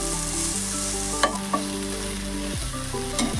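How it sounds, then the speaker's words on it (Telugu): Okra pieces frying in a pan with salt, a steady loud sizzle broken by a couple of sharp scraping stirs, close by and with no voices. "ఇది వేగాక వేయించుకోవాలి ముక్కకి సాల్ట్ పట్టేదాకా వేపుకున్నాక"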